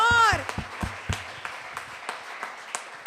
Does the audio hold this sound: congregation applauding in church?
yes